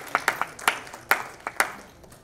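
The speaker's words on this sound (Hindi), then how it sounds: "जरा अपने हाथ निकालिए और जोरदार ताली दीजिए" Scattered hand claps from a small audience at a poster and trailer launch event, about eight sharp separate claps over two seconds, loud and close, thinning out toward the end.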